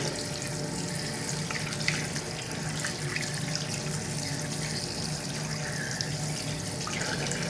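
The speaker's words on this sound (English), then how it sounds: "You have to use clean water for this." Tap water runs steadily into a sink while an action camera is washed with soap and clean water, a continuous close splashing flow with no voices.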